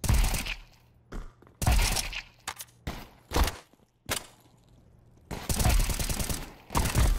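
Gunfire from the Counter-Strike 2 shooter: several separate loud bursts of rapid shots broken by short silences, close and sharp, with a faint steady hum between them.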